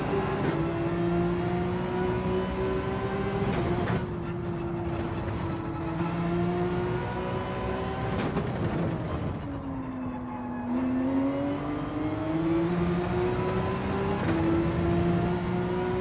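Porsche race car engine in Gran Turismo 7, droning steadily at high revs with gear shifts and pitch dips and climbs throughout, loud and continuous with no talking.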